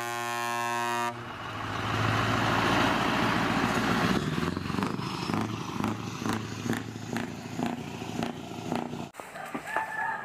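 A red trailer truck head rumbles in a steady, pulsing idle after a brief tonal horn-like opening, with rattles and clicks scattered through the later seconds and no talking.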